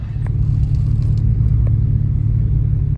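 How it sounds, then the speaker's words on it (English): A car rolls slowly to a parking spot during Monterey Car Week preparations, its engine giving a loud, steady low rumble close by with no voices. "some parking opened up, so I'm gonna move my car"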